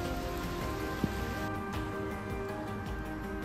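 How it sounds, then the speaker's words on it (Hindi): Steady rain hisses down as cyclists shelter under a tree on a mountain road between Bageshwar and Almora, a constant wash of patter with no voices. "बारिश रुकने का इंतज़ार।"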